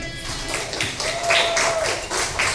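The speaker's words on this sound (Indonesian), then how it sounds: "ini tepuk tangan" A classroom group of schoolchildren claps in applause for a classmate, a steady, close patter of many hands running throughout with a faint tonal whistle in the middle.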